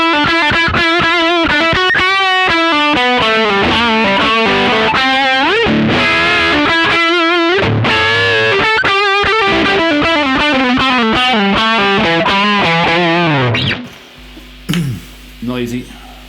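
Electric guitar with humbuckers played through a Nobels ODR-1 green overdrive pedal at high gain and high level, giving loud, distorted riffs and sustained notes that then cut to a brief noisy hum.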